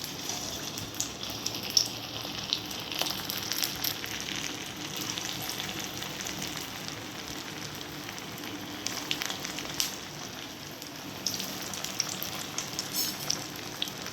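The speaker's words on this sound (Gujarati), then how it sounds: "જો હવે તળું છું" Potato pakoda frying in oil at home, with a faint, continuous bubbling sizzle at low heat and occasional soft ticks, alone without talk.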